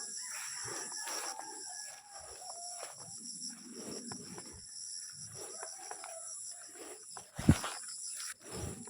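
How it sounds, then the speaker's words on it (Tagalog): Free-ranging hens and a rooster on a backyard poultry farm, with scattered soft clucks and rustling among other bird calls and insect chirps, moderately distant, plus one sharp loud knock near the end. "Ito ang sinasabi kong inahin kong alpas lamang."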